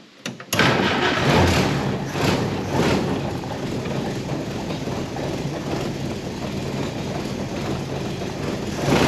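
A historic Ford Willys Jeep engine cranks over continuously, a steady loud mechanical churn that starts abruptly and runs for several seconds without catching.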